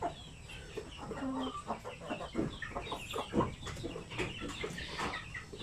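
Chickens cluck steadily in a small poultry farm's breeder flock, many birds overlapping in a continuous, fairly close chatter of short clucks and calls with no talking.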